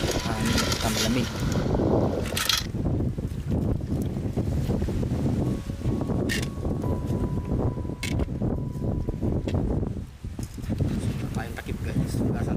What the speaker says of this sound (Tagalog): Mahangin guys, maingay yung camera natin